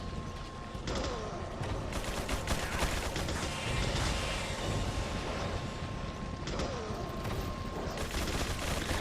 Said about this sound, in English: you might as well take care of the ganados with the Gatling gun